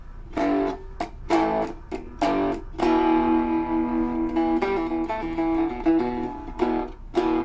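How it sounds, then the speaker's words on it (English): A gritty, heavily distorted cigar box guitar plays through an amp, a few choppy stabbed chords followed by a sustained buzzing riff with ringing notes. "It's kind of a nasty distortion, but it's pretty cool still."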